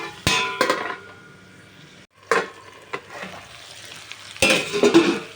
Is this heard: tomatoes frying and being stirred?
yes